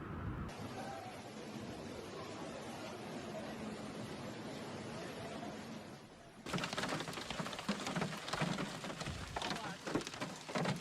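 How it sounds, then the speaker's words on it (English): Heavy rain pouring during a flood in Mecca, Saudi Arabia, a dense, steady roar of water that abruptly grows louder and rougher partway through, with no voices. "Heavy rains began in Mecca, Saudi Arabia."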